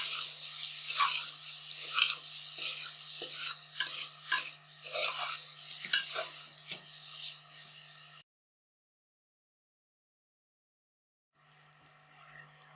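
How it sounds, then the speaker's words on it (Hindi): Chicken keema with garam masala frying in a pan, soft sizzling with repeated scraping strokes of a spoon stirring the mince for about eight seconds, then near silence before a faint return, no speech. "बस 2 मिनट इसको फ्राई करेंगे तो कीमा तैयार हो जाएगा।"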